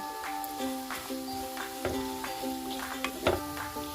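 Cumin, black cumin and mustard seeds sizzle steadily in hot oil for a banana stem pickle, with a constant fizz and scattered light ticks and pops close by.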